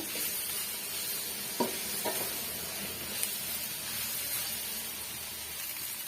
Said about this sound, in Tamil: இந்த பச்சை வாடெல்லாம் போகிற வரைக்கும் நல்லா வதக்கி விட்டுடுங்க